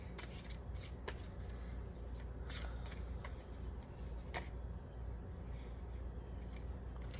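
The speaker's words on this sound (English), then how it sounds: "Let's pull from our fairy deck." A fairy oracle card deck is shuffled by hand, a faint run of repeated riffling and flicking card sounds over a quiet background hum, with no speech.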